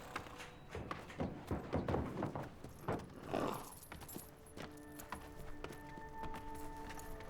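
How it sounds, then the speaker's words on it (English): Bay horses' hooves clip-clop on hard ground in a racing stable yard, an irregular cluster of close knocks and scrapes with a faint metallic jingle, then a quieter steady hum. "Chico, Jeff, sort these bay horses out, would you?"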